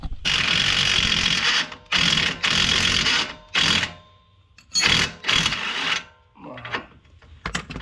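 Spanner or ratchet undoing a suspension bolt on a V36 Skyline (Infiniti G37) during a lowering-spring install, heard as loud bursts of rapid ratcheting clicks separated by short pauses, close up, with no talking.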